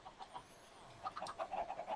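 Chickens cluck in PolyCraft, a string of soft, short clucks that comes faintly at first, then more often and a little louder.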